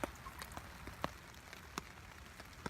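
Rain on a hammock camp, heard as scattered close drips and light taps at uneven intervals over a soft, steady patter.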